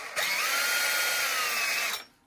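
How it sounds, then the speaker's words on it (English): A power drill bores a tiny hole in a wooden spinning top, one sustained high whine lasting about two seconds, then winding down. "then we've got to drill this"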